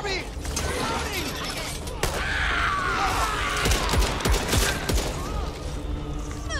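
Gunfire and clattering weapon mechanics from a zombie shooter game, Back 4 Blood, sounding as a dense, cluttered series of shots and metallic impacts. Game voices speak now and then over the noise.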